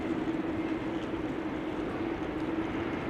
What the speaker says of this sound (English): The tail is from Air Canada flight 809 to Toronto, which is taxiing out to runway 24